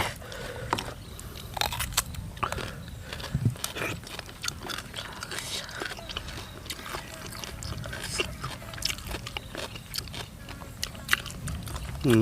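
Crispy squid from a spicy mixed-seafood papaya salad is chewed up close, with irregular crunchy bites and wet chewing sounds over faint background noise.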